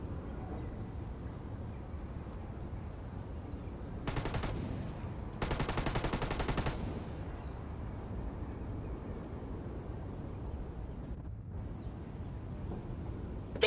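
In the video game Ghost Recon Wildlands, automatic gunfire comes as two short rapid bursts, the second one longer, fairly faint and distant over quiet background ambience.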